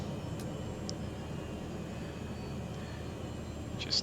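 Cessna 208 propeller aircraft taxiing toward a parking spot, a steady low engine drone heard from inside the cabin, even and continuous, with a few faint brief ticks.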